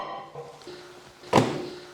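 A single solid thunk of a microwave door shutting close by, preceded by faint quiet background clatter.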